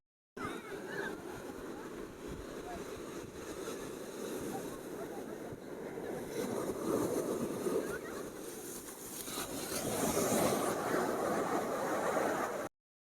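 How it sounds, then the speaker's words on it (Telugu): Sea waves rolling in at Marina Beach, Chennai, a continuous broad wash of surf that builds toward the end, heard up close with the wind. "ఒకసారి చూడండి వాటర్ ఎంత ఫాస్ట్ వస్తున్నాయి. ఆ వేవ్స్ చూడండి, ఆ టైడ్స్ చూడండి."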